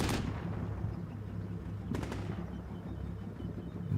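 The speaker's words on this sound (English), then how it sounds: "now here the artillery start landing" Artillery shells landing in Combat Mission Shock Force 2, with a sharp blast at the start and another cluster of impacts midway over a low rumbling battlefield background.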